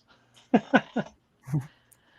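A man imitates a dog with his voice, giving three quick panting yaps followed by a short lower bark-like grunt, close and alone in a quiet room.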